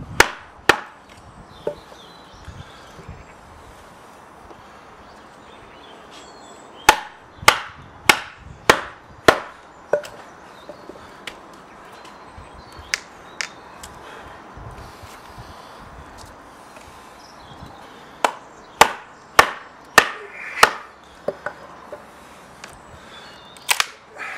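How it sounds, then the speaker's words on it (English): A full tang knife chops and splits wood outdoors, sharp percussive knocks arriving in quick bursts of several strikes separated by pauses. "so we split a lump off the side there, and the knife is fine"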